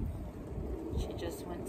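Wind blows outdoors in a backyard, buffeting the phone's microphone with a steady, loud low rumble and roar for the whole moment.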